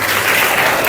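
A crowd at an outdoor tree planting event bursts into loud, dense applause, close and continuous throughout the short moment.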